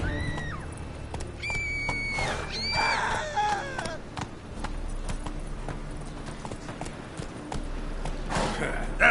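Roach the horse gallops in a PS4 video game, with steady clip-clop hoofbeats and occasional snorts under game music and chirpy effects, while a voice urges the horse on.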